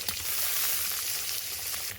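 Ginger paste dropping into sliced onion, garlic and slit green chillies already frying in oil, a brief steady sizzle with a faint stir, close and without talk.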